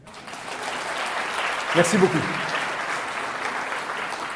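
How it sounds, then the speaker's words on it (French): An audience in a small group session applauds in a soft, continuous patter lasting several seconds, with a short spoken thanks heard briefly in the middle. "On peut les applaudir."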